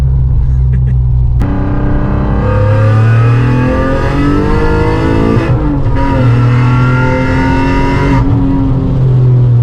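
An Alfa Romeo 147 GTA V6 with a stainless exhaust revs hard and steadily, a loud, close, continuous engine roar that climbs in pitch, dips briefly, then surges again, with no one talking.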